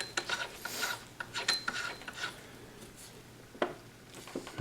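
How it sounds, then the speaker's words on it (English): A flash can being screwed onto a Kriss Vector muzzle device, close, light metallic scraping and ratcheting clicks in irregular short bursts, with a sharper scrape near the end. "at this point, we just screw on our redirect or our flash can"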